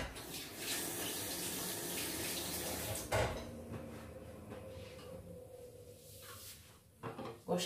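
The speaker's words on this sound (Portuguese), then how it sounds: "Gosto sempre de lavar as minhas mãos" A kitchen tap runs steadily while hands are washed during chocolate mousse preparation, a close hiss of water that stops partway through, followed by faint clatter.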